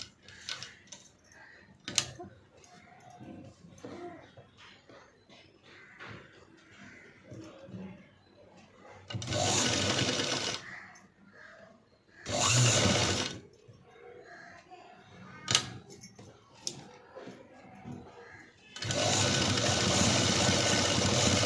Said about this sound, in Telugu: చూపిస్తున్న విధంగా నీట్గా స్టిచ్ చేసుకోవాలి